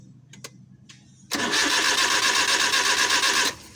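An engine that won't start cranks after a couple of soft clicks, giving a loud, even starter whir for about two seconds that cuts off without catching, heard close with no speech.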